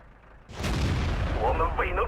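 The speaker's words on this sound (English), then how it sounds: "Another very uneventful shot. Those guns on the Chinese tanks are very inaccurate." A Chinese tank's main gun fires in World of Tanks, a single heavy boom that rings out and rumbles on, with game sounds layered over the tail.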